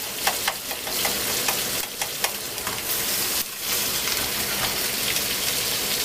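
Garlic sizzles and crackles steadily in hot butter and oil, with occasional stirring scrapes, close up and continuous, with no talking.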